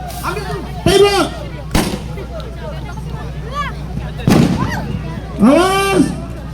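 Sharp gunfire bursts ring out during a police city-security drill simulation for the 2024 regional election in Tana Tidung, North Kalimantan, with several loud cracks spaced a second or so apart over a babble of crowd noise and shouted commands.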